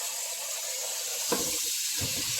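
Grapefruits and lemons being rinsed under running tap water make a steady hiss of flowing water, with two brief splashing bursts as the fruit passes under the stream.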